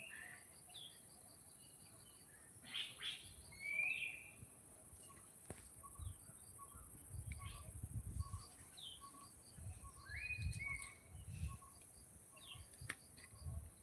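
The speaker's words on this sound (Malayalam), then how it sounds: "പലതരം കിളികളുടെ ശബ്ദം" Various birds call in a bamboo forest, sparse chirps and short whistled notes scattered at a distance over a steady hum of insects, with occasional soft rustling thumps nearby.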